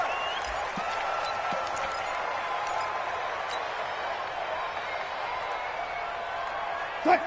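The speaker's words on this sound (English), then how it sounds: "Combined with this crowd noise, makes it very difficult to run offense." A football video game plays a constant, deafening stadium crowd roar as one unbroken wash of noise. A voice talks over it.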